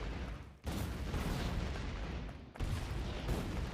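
Grenades explode in the Factorio video game, two sudden heavy blasts about two seconds apart, each followed by a rumbling noisy wash at moderate level with no talk.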